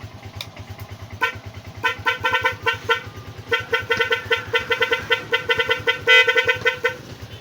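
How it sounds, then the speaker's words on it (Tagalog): A series of repeated horn toots from a Rusi 125 motorcycle in quick bursts, some short and some held longer, over a steady idling engine. "Testing busina."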